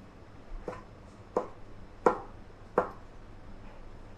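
A knife chops bacon into small pieces on a board, four crisp separate cuts with uneven pauses between them, close and quiet with no talking.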